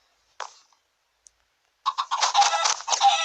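Chicken in the Minecraft video game clucking, one short cluck followed after a pause by a quick run of clucks, close and clear against silence.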